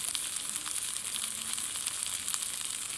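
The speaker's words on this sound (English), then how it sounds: "we are going to begin cooking the coleslaw" Shredded coleslaw cooking gently in a pan over medium-low heat for a Chinese dish, giving a steady, soft hiss and faint crackle that runs evenly throughout with no voices.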